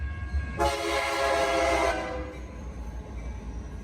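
A freight train rumbles past steadily while its horn sounds one sustained, loud blast for more than a second, then the low rolling rail noise carries on under the fading horn.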